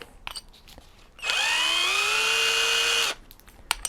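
A Topshak TS-ED1 impact drill spins up with a 25 mm bit, a loud high whine holding steady for about two seconds before cutting off, with faint knocks and handling before and after.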